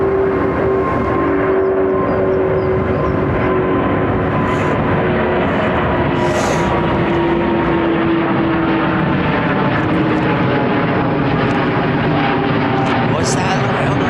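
Airliner taking off overhead from runway 09R at London Heathrow, a loud, continuous roaring jet rumble with a slowly shifting whine as it climbs away, with people talking over it.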